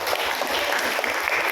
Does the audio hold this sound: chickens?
no